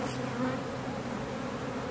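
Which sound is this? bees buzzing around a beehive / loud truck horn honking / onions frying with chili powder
bees buzzing around a beehive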